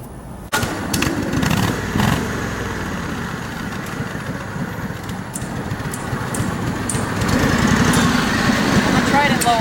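Garden tractor engine fitted with a front-end brush pusher, starting with a sharp catch and then running steadily up close, a rough continuous drone that grows a little louder toward the end.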